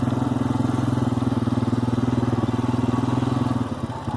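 Four-wheeler ATV engine running close up with a steady, rapid, loud throbbing putter that holds even and then slightly eases near the end.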